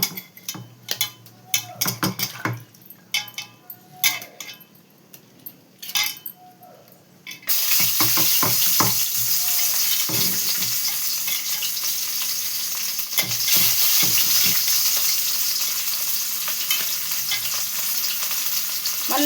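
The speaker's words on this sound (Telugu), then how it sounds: "పచ్చిమిర్చి వేసేసుకుంటాం." Green chillies drop into hot tempering oil, bursting into a loud, steady sizzle and spatter that fills the space after a stretch of clinking, stirring pot sounds, with no one talking.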